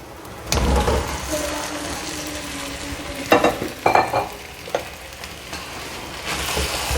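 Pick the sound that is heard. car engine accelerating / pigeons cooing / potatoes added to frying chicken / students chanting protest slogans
potatoes added to frying chicken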